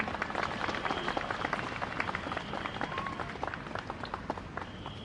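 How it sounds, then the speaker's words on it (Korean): Crowd applause at an outdoor doctors' rally in a city plaza, a broad, distant-sounding patter of many hands sustained for several seconds with faint voices underneath. "구호를 정말 힘차게 외쳐주신 김승진 사무총장님께 다시 한번 힘찬 박수 부탁드립니다"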